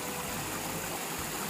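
Floodwater rushing past in front of a house after heavy rain, a faint continuous churning wash with a low rumble, heard alone.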